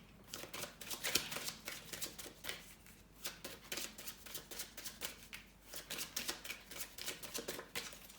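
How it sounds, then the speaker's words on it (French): Tarot cards being shuffled up close, a quiet run of papery riffles and soft slapping shuffles in an uneven rhythm, alone without talk. "Je vais mélanger les cartes et je vais couper pour ensuite disposer les arcanes."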